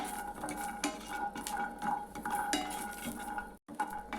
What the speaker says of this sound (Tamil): இதுக்கும் எண்ணெய் ஊற்றாமல் நம்ம வெறும் கடாயிலேயே போட்டு வறுத்துக்கலாம்.